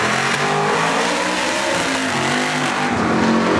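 A Chevy Impala weighing 4,000 pounds, its engine roaring loud and steady throughout with a rising, straining tone like hard acceleration, with no talk.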